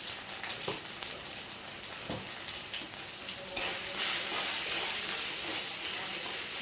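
Turmeric, coriander and cumin powders frying in oil in a pan, an even hissing sizzle with faint stirring scrapes, then a sudden louder surge of sizzle partway through that stays bright and steady.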